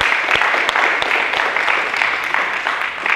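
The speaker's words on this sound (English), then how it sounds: "I'd like to hear some applause for the real leadership that we have in the city of Charleston" An audience in Charleston applauds the city's leadership, a dense continuous patter of many hands filling the room at full strength without pause or speech.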